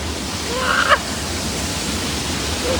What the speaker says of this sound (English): Oh no, I can see a big wave here.